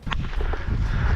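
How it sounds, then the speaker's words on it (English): Gunfire in a grinding battle for a town on the Eastern Front, with a constant dense rumble and overlapping distant shots and blasts throughout. "Who's shooting?"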